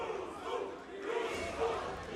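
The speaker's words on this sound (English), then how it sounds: "listen to the crowd, guys, listen to the crowd." A crowd at a welterweight Grand Prix fight event cheers and roars at moderate distance, swelling in waves without a break.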